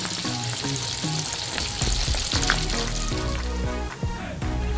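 Anchovies and tofu fry in a pan with a steady, loud sizzle, crackling oil and occasional scraping stirs punctuating the constant hiss.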